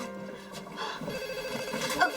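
A telephone rings indoors at a family's new home, its bell-like tone sitting under faint background talk and room noise.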